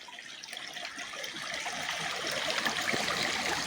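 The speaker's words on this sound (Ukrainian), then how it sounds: "так само бурчить, журчить ця вода" A forest stream babbles and gurgles continuously close by, a soft, even flow that swells slightly louder toward the end.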